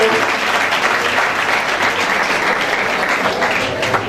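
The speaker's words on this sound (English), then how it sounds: "Clap for the boy. You have not known him, but clap for him." A crowd at a school valedictory service claps for a high-achieving boy, the applause loud, dense and continuous, like a full hall clapping together.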